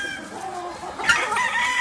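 Imported hens and roosters in a gamefarm pen near Tulsa, Oklahoma, clucking steadily, with a louder crow breaking in toward the end, all close by and with no talking.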